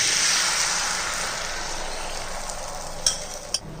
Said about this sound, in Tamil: நம்ம அடித்து வச்சுருந்த முட்டையை நம்ம இந்த கடாயில் ஊற்றிடுவோம்